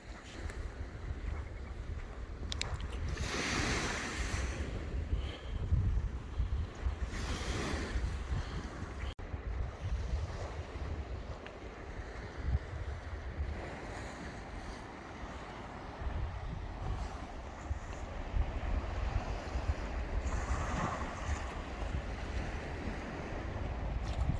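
Wind gusts buffet the microphone over a steady wash of waves breaking at Crail harbour beach in Scotland, a continuous outdoor roar with surges of surf.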